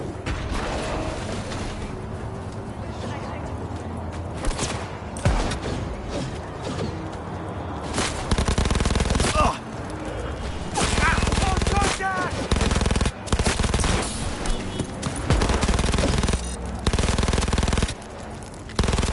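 Heavy automatic gunfire in a Cyberpunk 2077 firefight, with long machine-gun bursts, single shots and mechanical clatter that grow denser and louder in the second half. Speech-like voices come through in places.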